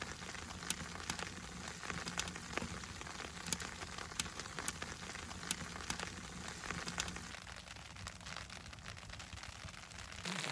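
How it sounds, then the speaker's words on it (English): Rain that has turned from ice pellets patters on a tent at a winter campsite in Algonquin, steady close crackling drops with irregular louder taps, continuous and alone. "these ice pellets seem to turn to rain. Actual rain."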